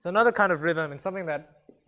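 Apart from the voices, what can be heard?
No everyday noises stand out.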